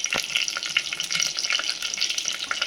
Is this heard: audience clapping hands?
no